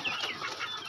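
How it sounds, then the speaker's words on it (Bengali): Chickens in a farm enclosure shared with ducks, clucking in quick, overlapping calls, close and moderately loud over a short stretch. "এটা তো মুরগি আছে, হাঁস আছে এক জায়গায়।"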